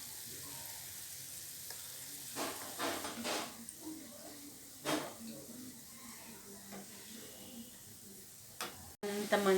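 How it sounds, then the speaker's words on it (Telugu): Garelu, Telugu lentil fritters, sizzle and fry in hot oil with a steady soft crackle, broken by several louder bursts as they are moved, and a sharp clatter near the end. "ఇంత మంచి గోల్డెన్ బ్రౌన్లోకి ఎలా ఫ్రై అయిపోయినాయో గారెలు"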